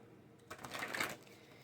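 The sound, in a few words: shuffling oracle cards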